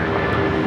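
Airliner on its takeoff roll at LAX, a steady loud jet engine roar filling the short moment, distant-to-mid range with no voices.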